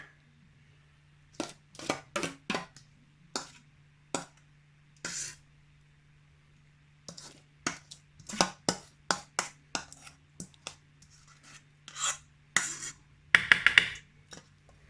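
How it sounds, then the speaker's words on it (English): Utensils knocking and scraping in a bowl while mayonnaise mixture is stirred into coronation chicken, heard as irregular close clinks and taps between quiet pauses, with a faint steady hum underneath and no talking. "I think we just go in with the rest of the mayonnaise mixture."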